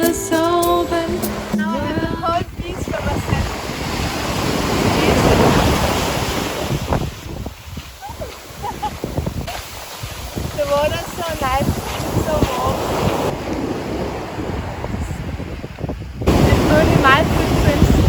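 Surf washing onto an empty beach at Huatulco Bay, Oaxaca, Mexico, with waves rolling and breaking up close under heavy wind buffeting the microphone and some bursts of nearby sound.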